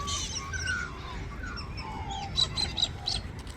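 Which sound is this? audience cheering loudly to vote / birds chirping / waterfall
birds chirping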